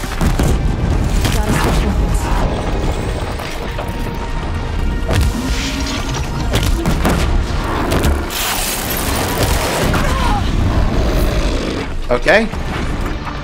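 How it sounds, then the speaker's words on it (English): Blast launcher explosions in the video game Horizon Zero Dawn, Frozen Wilds, booming repeatedly amid loud combat noise and creature roars, with a brief spoken word over the fight. "Seems like I did quite a bit of damage with the blast launcher there."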